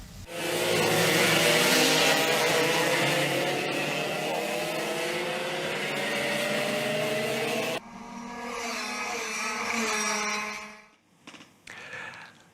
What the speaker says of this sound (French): Les moteurs ont rugi toute la journée pour le plus grand plaisir des oreilles.